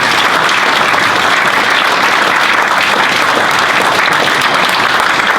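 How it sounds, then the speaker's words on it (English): Loud, sustained audience applause after a presentation on wolves in Montana at a science talk, a thick, even roar of many hands clapping close by. "Well, I think we owe another round of applause."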